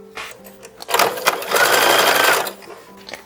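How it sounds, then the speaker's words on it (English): A sewing machine stitches a tiny lace-finished seam on a 1910s–1920s style infant dress in a short whirring burst of about a second and a half, close and clear, with faint handling clicks before and after. "original shows it being done by machine, so we're going to continue with this"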